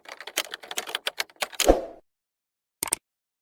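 Rapid keystrokes on a computer keyboard while entering a presentation topic into an AI tool, a close burst of clicking for about two seconds, then silence and a brief final pair of taps.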